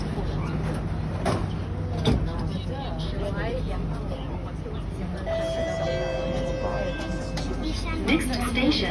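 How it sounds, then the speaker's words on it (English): Doors on an SMRT C151B train, built by Kawasaki Heavy Industries and CRRC Qingdao Sifang, slide shut at Braddell station with a warning chime, heard over a steady loud cabin rumble, while a recorded announcement plays and people chat nearby. "Doors are closing."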